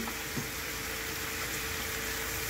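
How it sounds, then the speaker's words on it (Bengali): Fish coated in turmeric frying in a hot pan, giving a steady, continuous sizzle with no talk over it. "দিয়ে এটা ফ্রাই করছি"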